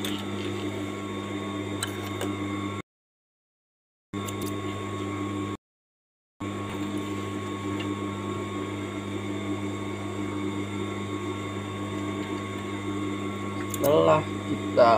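A sewing machine stitches a double-welt pocket, giving a steady, even motor hum broken by two short silent gaps, with some speech near the end.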